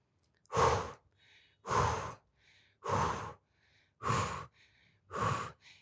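Steady breathing during a pilates exercise, five loud, close exhalations spaced about a second apart, each followed by a fainter inhale, with no talking.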